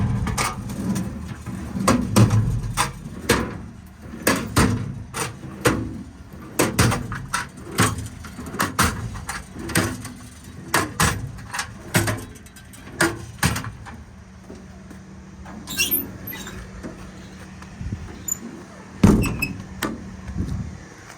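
American Eagle twist lock drawers on the service body of a 2013 Ford F-550 diesel 4x4 crane truck open and close in a long series of sharp metallic clunks and rattles, close and loud, thinning out toward the end.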